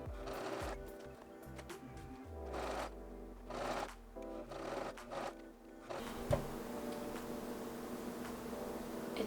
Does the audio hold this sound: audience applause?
no